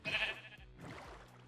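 Sheep in a Minecraft farm bleat twice, a loud nasal bleat up front followed by a softer, trailing second call, close and clear with no speech over it.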